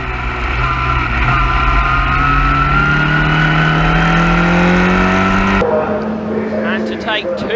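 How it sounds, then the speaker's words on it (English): Historic Formula Ford race cars on their final lap at the Silverstone Classic race meeting, a loud, continuous engine scream whose pitch climbs steadily before cutting abruptly to a quieter tone, with a voice speaking over it. "these cars start their final lap of the Silverstone Classic"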